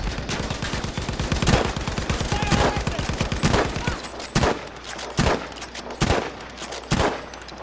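Sustained rapid machine gun fire in a Battlefield V match, a dense rattling stream for about four seconds, then single heavy shots spaced roughly a second apart, loud and close.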